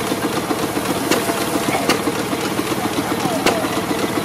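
A motor drives a machine at a rural threshing festival, running with a continuous mechanical clatter and hiss, small sharp knocks breaking through; voices talk over it.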